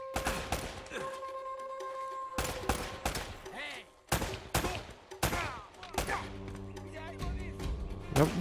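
Gunfire in the video game Uncharted: Drake's Fortune, with sharp bursts of shots in several separate volleys, heard under excited talk from players.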